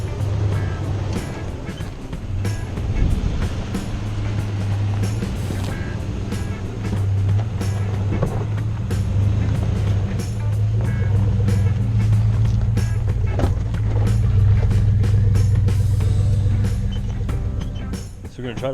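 A 2016 Toyota Tacoma truck crawls over rocks off-road on Colorado's Pennsylvania Gulch, its engine a steady, loud low drone throughout with scattered knocks and scrapes, and people talking over it.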